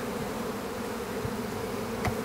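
Honey bees hum steadily inside a newly set up beehive, a dense continuous buzz close by with no talking over it.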